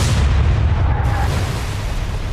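Warship deck guns fire at a submarine in the naval game Atlantic Fleet, a dense low boom rolling on with a steady rumbling tail across the whole stretch, loud and close.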